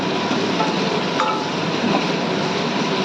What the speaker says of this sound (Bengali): আলু আর বিনসটা এভাবে ভাজার চেষ্টা নেড়ে নেড়ে ভাজবো।